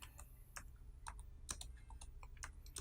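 Fingers tapping out a short question on a computer keyboard, a quick irregular run of light plastic key clicks, close and fairly quiet, with no voices.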